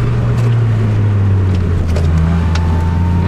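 A car drifting in a D1 drift event, a loud continuous engine drone with a low steady tone and shifting pitch, close and unbroken for the whole stretch.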